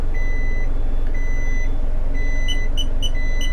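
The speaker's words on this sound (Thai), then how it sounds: "จะมีเสียงสัญญาณถอยหลัง" Steady high-pitched reversing beeps from an Isuzu NLR 130 hp truck repeat at an even pace over a loud idling engine rumble.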